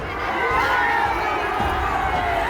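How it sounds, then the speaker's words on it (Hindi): Large crowd at Tejashwi Yadav's RJD election rally in Bihar, a dense continuous roar of cheering and shouting voices, loud and unbroken throughout. "बिहार चुनाव में भी सबसे ज्यादा चर्चा उस भीड़ की है जो आरजेडी नेता तेजस्वी यादव की सभाओं में जुट रही है"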